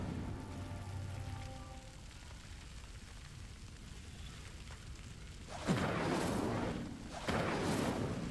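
In the Hogwarts Legacy video game, a cast Incendio fire spell bursts into a loud whooshing roar of flame that sustains for a moment, then flares again, after a quieter stretch of low ambient rumble.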